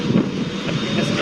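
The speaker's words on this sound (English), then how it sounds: "You sent out the chopper." A helicopter flies overhead with a continuous, moderately loud engine drone and rotor roar that wavers slightly in strength from start to finish.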